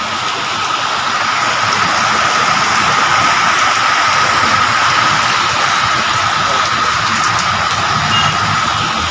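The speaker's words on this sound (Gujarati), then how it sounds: "રાતે વરસાદ આવ્યો હતો અને અત્યારે વરસાદ આવ્યો છે." Steady heavy rain pours down during the monsoon with a constant, loud hiss that does not let up, and no voices are heard.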